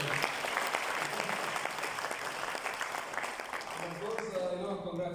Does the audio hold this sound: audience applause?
yes